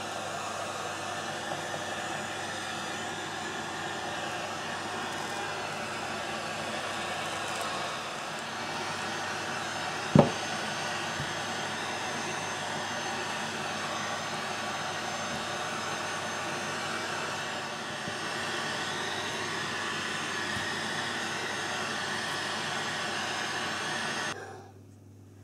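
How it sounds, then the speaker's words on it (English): A heat gun on its low setting blows a steady, even hiss and whir for about twenty-four seconds while shrinking film over packaged bath bombs, with one brief click partway through before the blower cuts off. "we are just going to use the heat gun to shrink them on the low setting"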